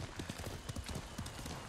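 Hooves clip-clop in a quick, steady galloping rhythm as a horse runs in the video game Ghost of Tsushima, close and fairly quiet with no speech over it.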